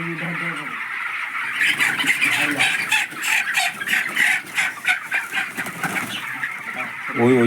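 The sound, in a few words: chickens squawking and clucking on a poultry farm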